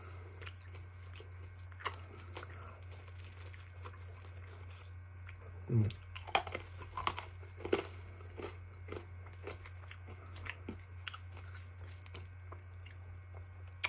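Close, quiet crunching and chewing of a sour Spree candy cane, irregular bites and crunches clustered after a few seconds of near silence over a steady low hum.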